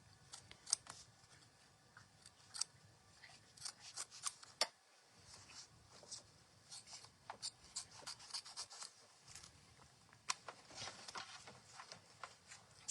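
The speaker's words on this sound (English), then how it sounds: "I'm kind of cutting in between the pieces, not really close yet, just to get them all separated" Scissors snip repeatedly through fabric pieces for mug rugs, rough-cutting between the pieces to separate them; quiet, close, irregular crisp cuts with soft rubbing of cloth between.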